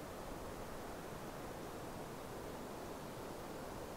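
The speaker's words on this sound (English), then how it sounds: "All you hear is the wind blowing." Steady wind blowing at a high mountain overlook in the Georgia mountains, a constant, even, fairly faint rushing that never rises or falls, with no voices.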